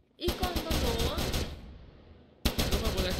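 Rapid bursts of video game gunfire in Perfect Heist 2, a fast volley for about a second then a pause before another loud burst, with voices talking over the shooting.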